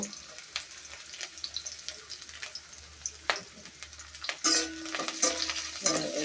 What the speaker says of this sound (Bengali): এখন আমি তেলটা গরম হয়ে গেছে, এখান থেকে পেঁয়াজ কুচি দিয়ে দিতেছি।